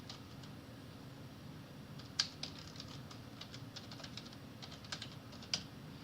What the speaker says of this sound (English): So I am typing my mail ID here.